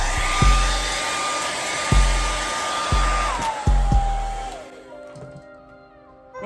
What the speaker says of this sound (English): I'm gonna go ahead and plug this blow dryer up